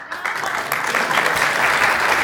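Audience applause fills a California Transportation Commission meeting room, a dense, steady clapping that starts quickly and swells slightly, holding strong for a couple of seconds.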